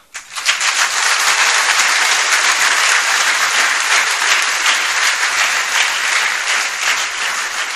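A large audience at a network marketing talk in India breaks into loud, dense applause that swells within the first second and holds steady, fading slightly toward the end.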